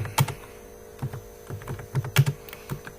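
Quick, irregular keystrokes clatter on a computer keyboard while a Turbo Pascal program is typed, close by in short bursts and single taps over a faint steady electrical hum, with no talking.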